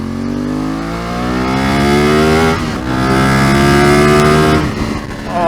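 A Ducati motorcycle accelerates up to speed, its engine note rising steadily through the gears with a brief dip partway through, loud and close throughout with no talk.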